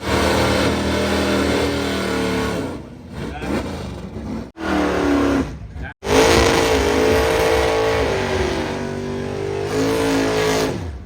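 A red and black 2005 Ford Mustang engine revs loudly and continuously at close range, with sustained high-rpm roars, two sharp cut-offs between pulls, and rising and falling pitch.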